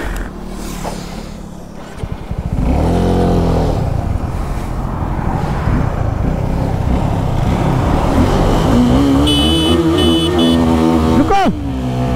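Suzuki Gixxer SF250 and Husqvarna Vitpilen 250 motorcycles racing, engines revving up loud and close through rising gear pulls, with a voice heard faintly under the roar.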